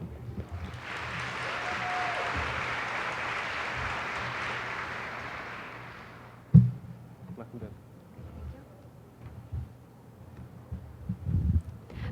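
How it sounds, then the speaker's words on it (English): An audience gives a warm round of applause for a presenter at a settlement department session, clapping swelling and holding for about six seconds before stopping abruptly, then quiet room noise and speech. "extend her the same warm round of applause that you guys are famous for"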